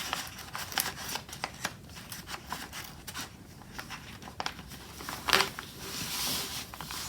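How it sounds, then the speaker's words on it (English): Scissors snipping through paper scraps while making an envelope journal, a series of irregular, close, crisp cuts scattered across several seconds with soft rustling between them. "I'm just cutting it with the scissors"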